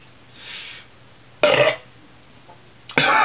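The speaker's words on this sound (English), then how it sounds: "I find out if you get these just right, they make you burp good." Two loud, abrupt burps about a second and a half apart, close and alone, preceded by a soft breathy sound.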